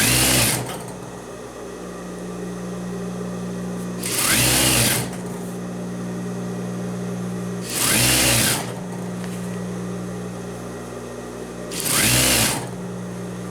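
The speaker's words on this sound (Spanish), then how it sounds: "Cuidamos que coincidan nuestras costuras y cosemos hasta el otro extremo." Sewing machine stitching trouser seams, a steady close motor hum broken by four short, louder bursts of rapid stitching at roughly four-second intervals.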